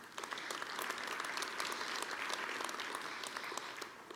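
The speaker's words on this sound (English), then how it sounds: "Please give them an applause." A civic audience at a State of the City address applauds for the color guard, a continuous fairly distant round of clapping that fades slightly toward the end.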